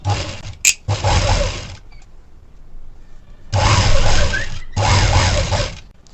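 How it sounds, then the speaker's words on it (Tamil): A sewing machine stitches a large center seam on a plain blouse sleeve, running in loud close bursts of rapid mechanical whirring separated by short pauses, with no talk. "நம்ம நடுவில் ஒரு சென்டர் பெரிய தையல் ஒன்று போட்டுக்கலாம்"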